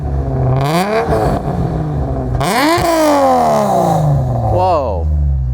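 A Subaru GC8 with a swapped 3.6R flat-six and Raptor headers revs several times up and back down, loud and close, heard from outside the car, with people talking over it.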